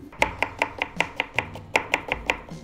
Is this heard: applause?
no